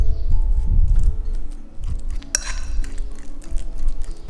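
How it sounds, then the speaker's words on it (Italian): A fork presses and scrapes through a ripe banana in a bowl, giving soft squishy thuds with occasional sharp clinks of metal against the bowl, close and alone. "Per prima cosa andiamo a schiacciare con una forchetta una banana"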